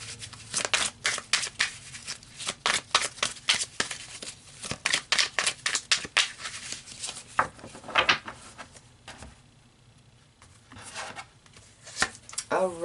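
Tarot cards riffled and slapped down in a long run of quick, crisp flicks and rustles, then a few slower shuffles and single pulls, with a voice speaking now and then in between.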